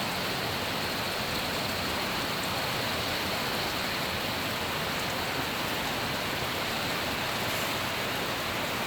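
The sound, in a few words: heavy rain falling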